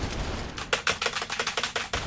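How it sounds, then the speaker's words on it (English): Gunfire in the video game Saints Row: The Third: a rapid burst of roughly a dozen sharp shots in quick succession, fairly loud over a steady background of game ambience. "Just shooting him."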